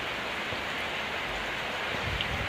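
Steady, dense rain pours around a house with a small herb garden, a constant close hiss with no talking.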